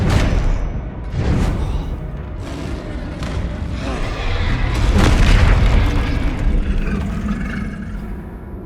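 Bombarda blasting spell in a Harry Potter video game: heavy, booming explosions rolling one into another, loud and reverberant, with a strong low rumble peaking near the middle and slowly fading.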